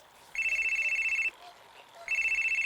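A telephone rings twice, each ring a steady bright electronic trill lasting about a second, close and clear with a brief quiet gap between.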